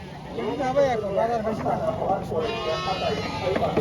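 Goats bleat amid a busy, crowded goat market in Jhenaidah, Bangladesh, with steady overlapping calls mixed into constant nearby chatter and bargaining voices.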